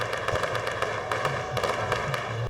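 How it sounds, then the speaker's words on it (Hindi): Fireworks crackle and pop in a dense, continuous barrage at an election victory celebration, with rapid sharp bursts over a steady roar of noise. "आतिशबाजी की"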